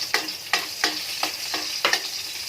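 Garlic goes into a pan of frying chicken curry, a soft hiss punctuated by six evenly spaced spoon strikes or scrapes against the pan, close and moderately quiet.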